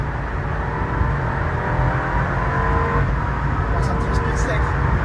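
A BMW rental car accelerates at full throttle on the Nürburgring. The steady, loud engine drone is heard from inside the cabin, joined by road and wind noise, with a faint high whine near the end.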